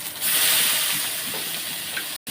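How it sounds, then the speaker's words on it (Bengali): Chopped onions sizzle and hiss in hot oil with dry red chillies and whole cumin seeds, a bright steady frying sound heard up close, with a brief cutoff near the end. "ভালো করে নাড়িয়ে চাড়িয়ে একটু ভেজে নিতে হবে"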